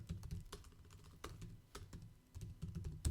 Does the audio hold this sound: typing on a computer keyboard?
yes